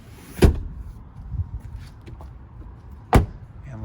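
Two sharp thuds a few seconds apart, a trunk lid shutting on a 2021 Acura TLX A-Spec sedan without power close, close by over faint background noise.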